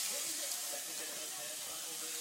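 Onion sautéing in a pan at medium heat makes a continuous loud sizzle and steamy hiss, steady from start to finish.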